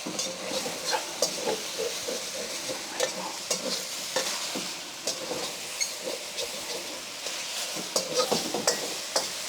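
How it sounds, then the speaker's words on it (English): Beef and vegetables searing in a wok for Mongolian beef, a steady loud sizzle punctuated by rhythmic scraping tosses and metal clinks throughout. "Use the surface area of the wok to make sure you're getting as much searing as you can with this beef."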